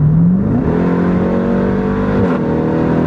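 A 2018 Jeep Grand Cherokee Trackhawk's engine accelerates hard, a loud, close rising roar that climbs in pitch, then briefly dips as it shifts and keeps pulling strongly.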